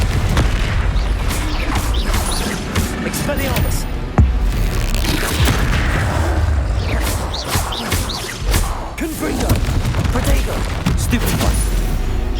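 Blasting spell explosions in the Hogwarts Legacy game come as a dense run of loud booms and bursts mixed with battle effects, with a voice casting spells over the ongoing fight.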